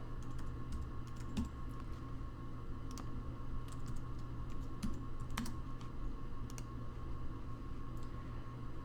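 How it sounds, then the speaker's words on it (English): Someone types on a computer keyboard while logging in to submit online homework. The keystrokes come in sparse, irregular clicks over a low, steady background hum, with no one talking. "I didn't type my email in all the way"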